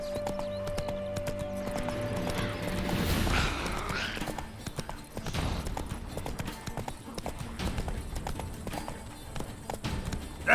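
Roach, Geralt's horse in The Witcher 3, trots with brisk clip-clop hoofbeats that swell loudly partway through and carry on under game music and voices, which are heard speaking.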